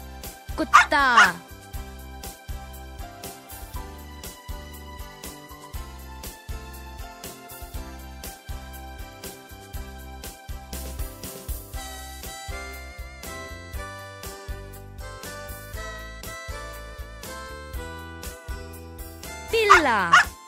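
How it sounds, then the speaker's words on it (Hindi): A dog barks in brief bursts near the start and again at the end, over a continuous rhythmic musical backing. "कुत्ता"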